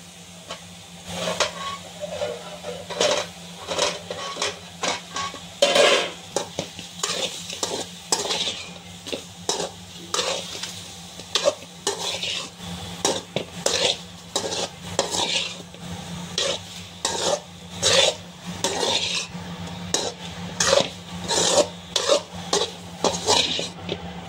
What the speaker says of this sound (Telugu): దీంతో మనము ఈ రొయ్యలు అనేది వేసి పచ్చి వాసన పోయేంత వరకు కొద్దిగా వేసుకోవాలి